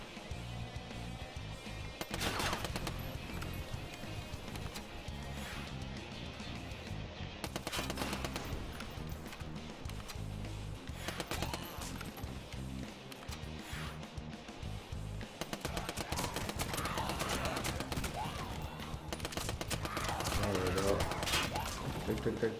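Gunfire in the zombie shooter game Kill All Zombies, bursts of repeated shots and crashes coming and going amid game sound, with someone talking over parts of it.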